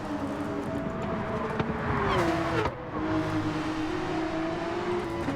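A black Porsche race car in Gran Turismo 7 roars at high revs, its engine note climbing and shifting steadily throughout, with a brief dip midway, loud and close with no voices over it.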